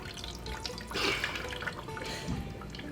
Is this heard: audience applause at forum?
no